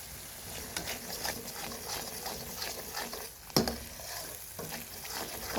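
Masala frying in a pan after kasuri methi goes in, a soft steady sizzle with scraping stir strokes and one sharp knock near the middle, alone and fairly quiet.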